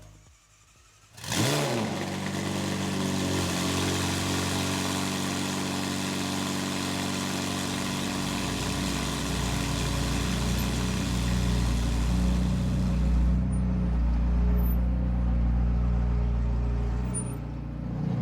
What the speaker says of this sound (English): So we'll get it started for the first time. Let's see what it sounds like.